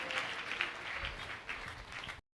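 A church congregation claps their hands for Jesus, steady rapid applause from many people at a healing and deliverance service, continuous and fairly even before cutting off abruptly.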